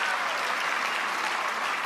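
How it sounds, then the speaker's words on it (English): A tennis crowd bursts into steady applause after a long rally point in a women's match at the Mesa Cup, a dense wash of clapping that stays even and full throughout. "The crowd showing their approval here"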